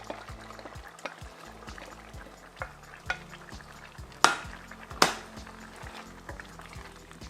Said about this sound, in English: So what I'm gonna do is add my beautiful vegetables